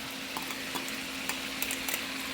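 Onions hit a pan of frying pork, giving a steady, even sizzle with faint stirring ticks and scrapes close by and no talking.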